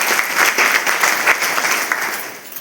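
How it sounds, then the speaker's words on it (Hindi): Applause from an assembled audience at a one-day Alpviram programme in Panna, steady dense clapping with a few sharper claps standing out, sustained for a few seconds and gradually easing. "अवस्थी जी के लिए मैं चाहूंगा कि सदन की ओर से तालियां जरूर आनी।"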